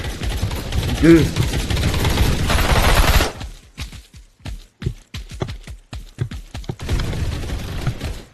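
Rapid game gunfire from the video game Marvel Rivals: a dense burst of shots runs for about three seconds, then sparse sharp individual shots with gaps, then another dense stretch near the end, with a voice talking over it.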